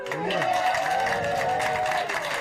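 Crowd applause rising from a large stadium audience, a continuous wash of clapping with tonal sounds and voices layered over it.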